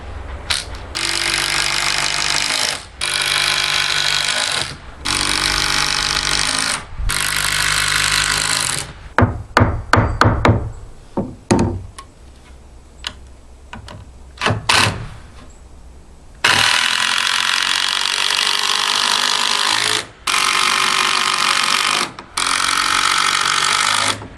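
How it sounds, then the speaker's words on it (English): Power screwdriver driving double screws into exterior board-and-batten wall framing, heard as loud sustained whirring bursts of a few seconds each, broken by a middle stretch of clattering, knocking handling sounds before more long driving runs. "I'm going to put double screws on every 24 inches."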